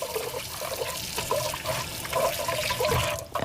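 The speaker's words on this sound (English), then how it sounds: "Let me wash my hands real quick, because I have a mess on my hands." Hands are rinsed under a running tap in a kitchen, a steady close splashing trickle of water that runs throughout with no talking.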